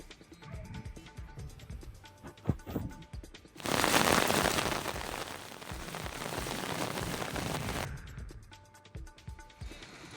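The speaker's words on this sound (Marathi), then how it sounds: "जोरदार पाऊस बरसलाय." Heavy rain pours down in a steady, dense hiss that surges in loud and holds for several seconds, with lighter patter and clicks before and after.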